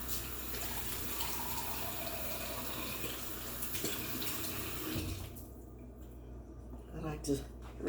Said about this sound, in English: I like to rinse out things so I can throw it away.